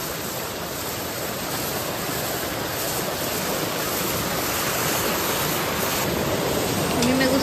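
Water gushing under pressure out of a half-inch pipe, venting beside a river; a dense, steady hiss and roar runs unbroken throughout, loud and close, with no talking.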